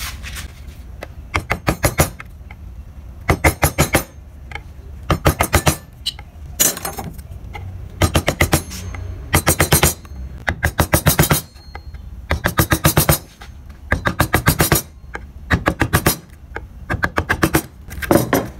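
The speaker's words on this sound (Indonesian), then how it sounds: "Kalian bisa gunakan pahat penguku untuk membentuk ulirnya ya, teman-teman." A gouge chisel carves a barong motif into wood in rhythmic clusters of sharp, clicking cuts, each burst followed by a short pause, close and fairly loud.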